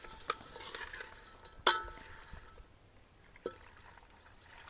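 A spoon stirs a pot of curry, quiet scraping and swishing broken by a few sharp metal clinks against the vessel.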